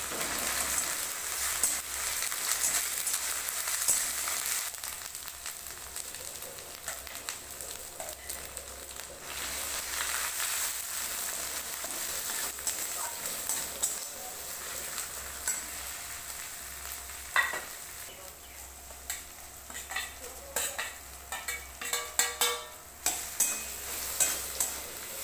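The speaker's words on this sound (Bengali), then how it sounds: "এবার একে একে বাটা মশলাগুলো দিয়ে আর সাথে টমেটো দিয়ে ভালো করে কষে নেব।" Ground spice paste and tomato sautéing in a pan after onions were fried until browned, a continuous soft sizzle with intermittent scraping stirs that turn busier and more clattery toward the end, close and moderate in level.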